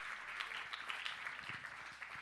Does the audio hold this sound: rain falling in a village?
no